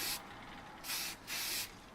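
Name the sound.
spray can applying primer paint to model kit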